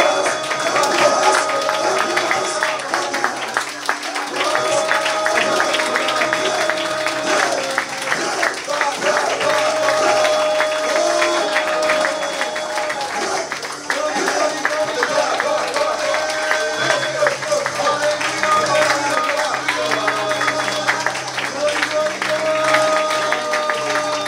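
A church congregation claps along rhythmically while music with sustained tones plays and voices carry over it, the clapping steady and continuous throughout.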